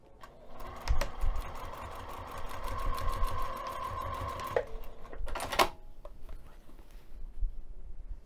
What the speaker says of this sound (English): take this over to the sewing machine and stitch that down using an 1/8 inch seam allowance